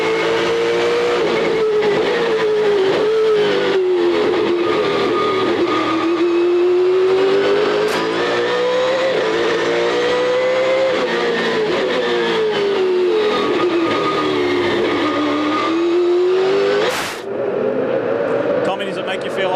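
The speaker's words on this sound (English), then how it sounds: "Let's ride with Scott Pruitt, our race leader" Onboard sound of a 2003 SCCA Trans Am race car at Long Beach, the engine roaring loud and continuous as it revs up and down through gear changes around the street circuit.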